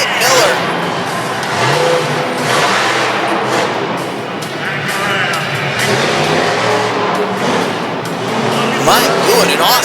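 A monster truck engine roars and revs loudly and continuously during a freestyle run at a Pocatello, Idaho arena show, with crowd noise and a commentator talking over the din.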